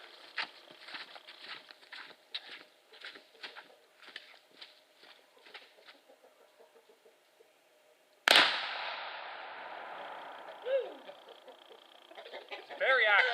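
A single loud, sharp report from a Lyman Tradesman .50 caliber black powder rifle, cracking suddenly after a stretch of speech and trailing into a long, noisy decay.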